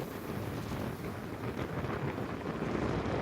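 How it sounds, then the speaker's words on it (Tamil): Strong wind blasts loose sand across open ground in a steady, loud, broadband roar that buffets the microphone for the whole stretch, with no voices. "காத்தோட வேகம் வேகமா இருக்கிறதுனால இந்த மண்ணெல்லாம் வந்து அப்படியே திசையில் அப்படியே அடிச்சுட்டு போகுது"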